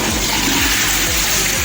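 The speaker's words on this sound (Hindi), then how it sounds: "और हम देखते हैं फ्लैश मार के" A newly fitted one-piece toilet flushes with a loud, continuous rush and gush of water, close up and steady throughout, with no one talking.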